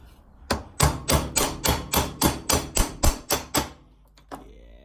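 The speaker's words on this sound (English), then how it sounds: "hopefully be able to hammer it out" About a dozen sharp metallic hammer blows in a steady rhythm, hammering out a handbrake cable on a classic Mini, close and loud, followed by a faint clink.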